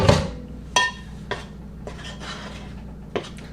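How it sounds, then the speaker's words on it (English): A spoon stirs sourdough pizza dough in a bowl, with a few clinking knocks against the bowl and soft scraping between them, close and moderately loud. "So I'm going to stir this up just a tad."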